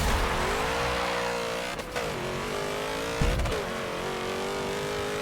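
Porsche 906 race car engine in a racing video game, revving hard and steadily at high pitch with two brief dips as gears shift, loud and continuous with no talking.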